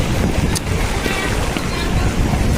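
Loud rushing floodwater roars continuously on a flooded city highway, heavy turbulent noise, close and strong, a fast current buffeting the microphone.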